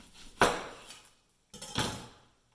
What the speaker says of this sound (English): Now I'm going to cut the onion in half.